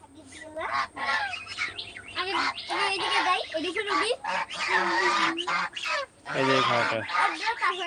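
King ducks honking repeatedly in an enclosure, loud and close, with overlapping nasal calls throughout while someone talks over them.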